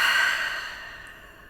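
A slow, steady exhale during a guided breathing exercise, a soft breathy rush that starts fairly loud and close and gradually fades away, with no talking.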